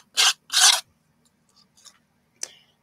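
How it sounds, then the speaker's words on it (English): Paint being scraped through a stencil onto a tissue box: two loud, rasping strokes close up, then a few fainter scratches and a short sharp scrape near the end. "And I'm sorry about the scraping"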